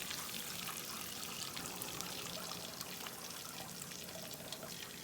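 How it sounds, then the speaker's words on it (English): Beef grease poured off a pan into a bowl while making gravy for hamburger patties; a steady, continuous liquid pour with trickling and splashing, close and fairly loud throughout, with no talking. "So we're going to take this grease here and pour about half of it"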